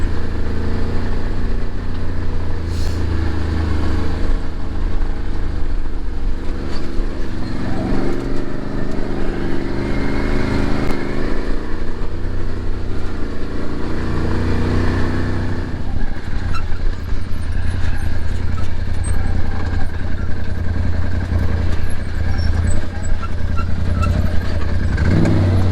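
Can-Am ATV driving through desert terrain, with a loud, steady engine drone and rumble close up, continuing without a break and shifting a little in pitch as the throttle changes.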